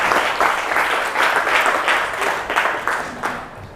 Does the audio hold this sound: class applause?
yes